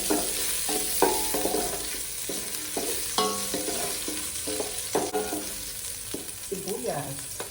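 Garlic sautéing in a pan for pork pochero, a steady frying hiss broken by repeated scraping stirs and clinks of a utensil against the pan, with faint background music underneath and no talk.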